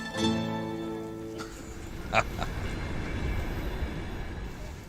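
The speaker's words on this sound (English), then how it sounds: "We've been on the train for about 12 hours." A passenger train rumbles steadily on its rails with a continuous low roar, a tonal hum early on, and a brief metallic clank midway, heard without talk.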